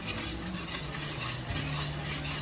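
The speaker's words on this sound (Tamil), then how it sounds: "சிம்மில் வச்சு கிளறிக்கலாம்" A spoon works steadily through thick palm jaggery halwa cooking on a low flame, giving a continuous soft stirring and gentle sizzle with faint scrapes against the pan.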